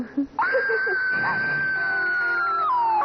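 A loud, sustained scream of pain rings out in a 1994 Indian TV drama, rising sharply after a brief vocal sound and held at a steady pitch for nearly three seconds before falling off.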